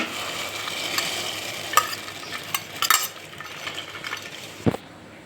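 Moth beans dropped into a pot of salted boiling water and stirred, soft bubbling with scattered spoon scrapes and light clinks against the pot, one sharper knock near the end.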